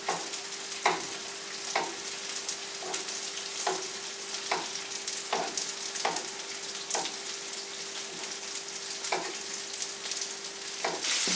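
Pizzelas sizzle and crackle steadily in a hot pan of fat while being basted, with faint regular taps cutting through the constant frying hiss.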